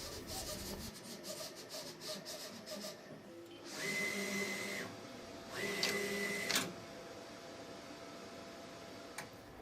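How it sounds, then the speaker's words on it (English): A Roland TrueVis SG2 printer/cutter running, its cutting carriage contour cutting printed designs: a steady mechanical hum with rapid ticking, then two bursts of higher whirring motor movement, close and fairly quiet. "The cutting carriage then detaches from the print head carriage and contour cuts your designs."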